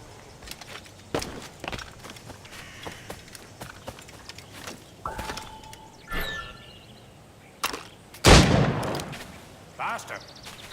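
Gunfire in Assassin's Creed Rogue: scattered sharp shots, one especially loud and close, break through a busy bed of footsteps and hoofbeats while voices are heard.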